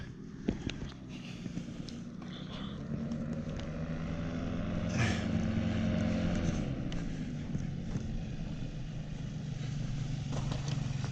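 A small aircraft engine drones steadily, swelling louder toward the middle and then easing off, heard from nearby with a few brief knocks and rustles and no speech.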